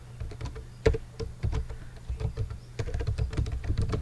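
Someone types on a computer keyboard in quick, uneven bursts of close, crisp key clicks with short pauses between them, while entering C++ code.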